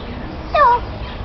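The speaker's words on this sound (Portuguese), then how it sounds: "Ó, tá ouvindo o passarinho?" A single bird's chirping call, a short rising-and-falling whistle lasting about a quarter second, sounds clearly once in the middle of a quiet outdoor background.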